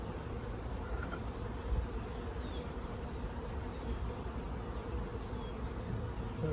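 Honeybees buzzing around a newly installed hive in a bee yard, a continuous low droning hum of many insects close by and steady throughout, with no voices.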